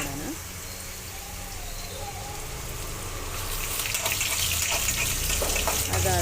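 Ginger and dried coconut frying in a pan for chicken curry, a steady close sizzle that swells louder toward the end, with faint background voice.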